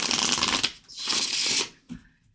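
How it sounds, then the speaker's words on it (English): Tarot or oracle cards shuffled for a reading, a close, loud riffling burst, a pause, then another long riffle ending in a soft tap, with no voices. "Let's shuffle real good"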